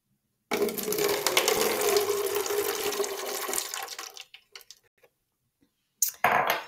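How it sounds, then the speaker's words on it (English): About 100 millilitres of water poured into a jug in a steady stream for roughly four seconds, trailing off into a few drips, then a brief clatter near the end. "And then I'm going to pour this water into the jug"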